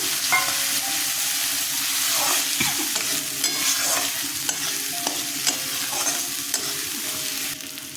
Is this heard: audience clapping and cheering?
no